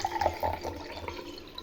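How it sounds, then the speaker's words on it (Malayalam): Cold water poured into a glass for a nannari sherbet drink, a short soft trickle and splash close by with no talk. "അതിലോട്ട് നമ്മുടെ തണുത്ത വെള്ളം ഒഴിക്കണം കേട്ടോ."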